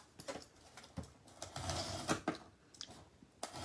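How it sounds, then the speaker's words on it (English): Printer printing orders in a home scrapbooking workspace, a quiet run of mechanical whirring and clicking pulses, close by and without talk. "And I don't think the printer's that loud."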